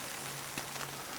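Steady rain falls at a campsite onto a Warbonnet Superfly hammock tarp, a faint, continuous pattering hiss with no other sounds over it.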